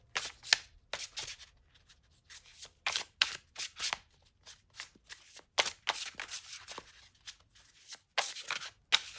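Tarot cards being shuffled by hand, a series of quick crisp riffles and flicks in irregular bursts with short pauses, close and fairly quiet.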